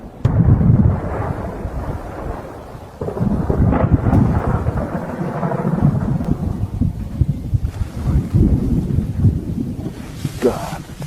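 Thunderstorm with heavy rumbling thunder rolling in broad surges, wind buffeting the microphone and some rain, with voices heard over it.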